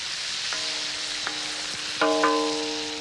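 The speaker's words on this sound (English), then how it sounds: "put the chicken pieces in the hot oil, stir them round and brown them" Chicken pieces fry in hot oil with spices, giving a steady close sizzle and crackle. A few ringing metallic clinks from stirring rise over it, with no talking.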